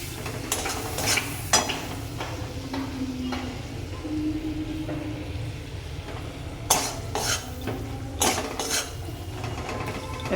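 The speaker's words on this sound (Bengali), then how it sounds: "এখন নাড়াবো।" Garlic, tomato, green chilli, turmeric, chilli powder and cumin powder frying in a pan, stirred with repeated scraping and clattering strokes over a low sizzle, close by and without any voices.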